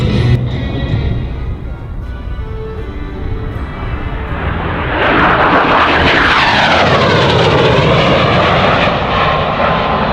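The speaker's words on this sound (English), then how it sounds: "The aircraft is now approaching from your center there." An AV-8B Harrier II jet roars loudly at the 2015 Miramar Airshow. The engine noise swells midway into a powerful, sweeping whine and rumble as the aircraft approaches overhead.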